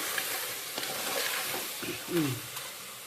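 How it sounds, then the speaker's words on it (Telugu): Goat head and leg curry being stirred in a pressure cooker, soft scraping and gentle sizzling, fairly quiet, with a brief louder scrape near the end. "కుక్కర్లో వండుతున్నా ఒక్కసారి మంచిగా కలుపుకున్నామండి"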